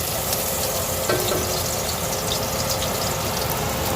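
Garlic sizzles and fries steadily in a hot pan while Skabitsy is being made, a dense continuous crackle with a few brief stirring sounds.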